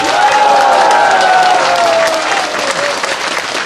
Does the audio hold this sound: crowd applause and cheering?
yes